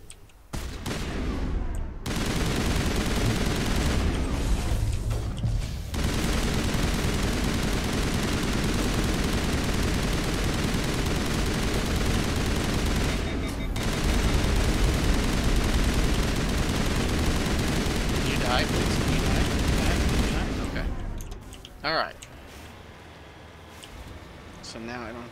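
Continuous gunfire and artillery in the Mass Effect Legendary Edition video game, a loud, dense barrage lasting most of the stretch with brief pauses, fading near the end.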